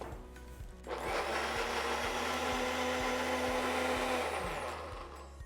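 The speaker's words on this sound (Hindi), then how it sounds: "और ये सारा का सारा एक साथ पिस जाएगा।" Mixer grinder running at full speed, grinding onion, black pepper and spices for a paneer curry gravy, a loud steady whirring roar that starts abruptly and tapers off near the end.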